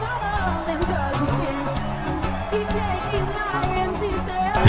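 Crowd noise rises as a singer moves into the audience at a concert in the film Back to Black, a dense murmur of cheering voices over steady music with a rhythmic low beat.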